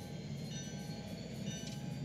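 In the Trainz 12 train simulator, a locomotive reverses on a local run at Sebring, producing a steady low diesel rumble with a faint whining tone, continuous and moderately loud throughout.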